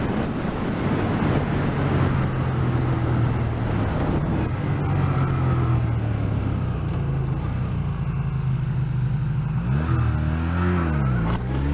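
Car engine revving as the vehicle loops around in a tight U-turn and heads back, steady loud road and wind rumble throughout with a rising and falling engine pitch near the end.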